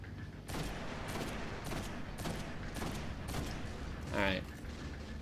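An enemy in the video game Destiny fires a rapid, regular stream of gunshots, each burst evenly spaced and fairly loud. A voice surfaces briefly in the mix.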